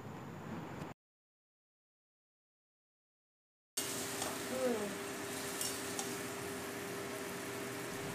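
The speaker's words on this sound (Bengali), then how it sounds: "এবার ভালো করে নেড়েচেড়ে নিতে হবে" Pointed gourd and prawn curry being stirred in a pan, soft scraping and sizzling under a faint steady hum, close by after a short silent gap.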